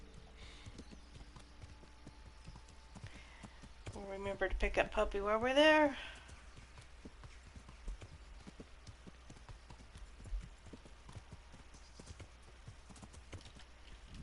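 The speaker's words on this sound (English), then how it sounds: "I can get on my horse and still move with this much stuff." Horse hooves clip-clop in a steady riding rhythm in Kingdom Come Deliverance, continuing throughout while someone talks over them, with a brief louder vocal stretch partway through.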